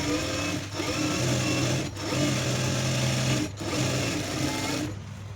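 A sewing machine stitches a blouse lining in a steady, close mechanical whir, running in three long bursts with short pauses between, with no talking.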